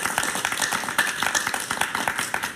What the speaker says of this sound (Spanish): un aplauso para que te entiendan